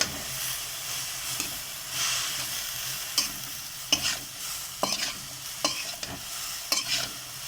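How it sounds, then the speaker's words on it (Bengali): Mixed vegetables for veg momo filling sautéed and stirred in a pan, giving a steady hissing sizzle with steam and repeated crisp spatula scrapes every second or so, close up and without speech. "আবারও আমি ভালো করে একটু কষিয়ে সেদ্ধ করে নিতে হবে"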